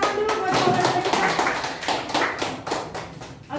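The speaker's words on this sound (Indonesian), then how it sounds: "Ayo tepuk tangan dulu buat saudara kita." An audience claps for a participant who has just been measured at a health cadre training session, with brisk, moderately close hand claps sounding steadily for a few seconds, a little uneven toward the end.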